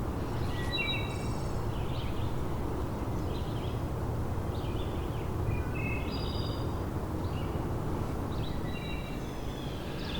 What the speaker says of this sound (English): quite a bit of birdsong.